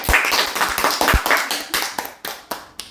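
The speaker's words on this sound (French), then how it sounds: "Allez, on peut applaudir." A small audience claps at a reopening of a French inn-based show, a brisk flurry of hand claps that thins out into a few scattered, separate claps by the end.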